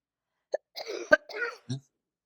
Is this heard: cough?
yes